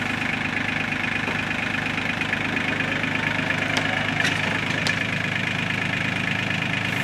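A tractor runs steadily at low, lumbering revs, pulling down a fort, with faint knocks and creaks from the strain, heard close and continuous without talk.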